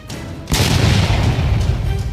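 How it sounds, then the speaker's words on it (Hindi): A deep, loud explosion boom sound effect that hits suddenly after a short quiet lead-in and rolls on as a sustained low rumble. "होने वाले थे धमाकों पर धमाके"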